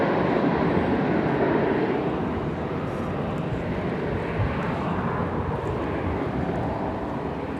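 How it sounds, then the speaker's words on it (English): An Airbus A321 rolls for takeoff on runway 18 left at Dallas Fort Worth airport, a steady, loud broadband jet roar that holds at one level throughout with no voices. "It's an Airbus A321 is rolling now on runway 18 left."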